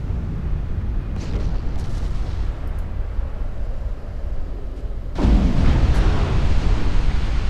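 Warship guns firing in a naval battle video game set in a 1949 Norwegian campaign, a low rumbling background of distant gunfire broken by one loud, deep cannon blast near the end.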